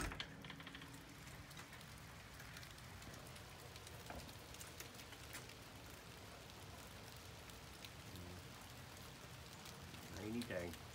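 Steady rain falls on a rainy day, a soft continuous patter with scattered drops, while a person talks quietly in the background.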